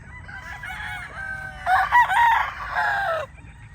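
A young local banded gamefowl stag crows once, close and loud, its strained call rising and holding for a couple of seconds over a low background hum.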